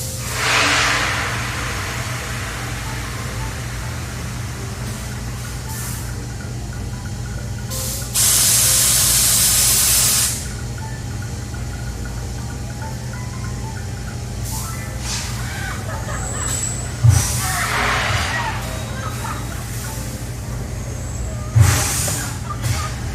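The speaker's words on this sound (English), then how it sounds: "I love the sound of these rides." Amusement park ride machinery at Holiday World gives off a steady mechanical rumble and hiss, broken by loud bursts of air-brake or pneumatic spray and a few sharp clanks, heard at moderate distance.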